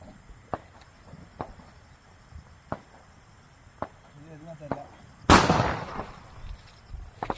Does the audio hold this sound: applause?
no